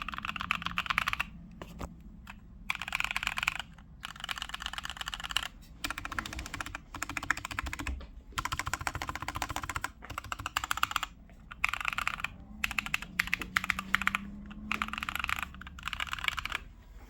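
Steady clacking of a tape-modded, foam-modded mechanical keyboard with lubed switches being typed on, in bursts separated by short pauses, close and clear with a deep, muted thock.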